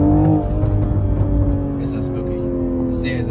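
A 2023 Toyota Supra 3.0 GR engine accelerating on the road, a steady engine drone rising gently in pitch while someone talks over it for the whole stretch.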